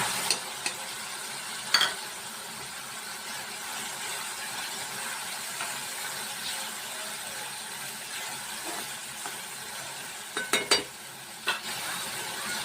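Green chillies and soaked lentils sizzling in a pan for gilka bhaji, a steady broadband frying hiss with a few sharp pops and spatters, close and continuous, with no talking.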